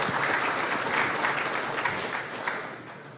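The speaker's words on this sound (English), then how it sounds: "Warm round of applause" An audience applauds at the Shmoocon 2013 security conference as a talk begins; the clapping is sustained and moderately loud, then gradually fades toward the end.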